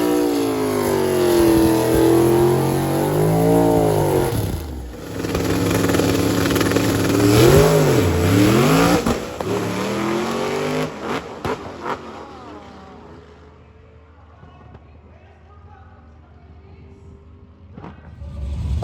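Finnegan's eight-second stick shift drag car firing up and revving, loud and close, with rising and falling engine sweeps and sharp shifts before the roar cuts off into quieter surroundings.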